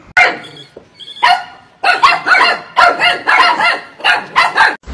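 A dog barks repeatedly, close and loud, in a quick irregular series of sharp barks and yips with a brief whimper early on.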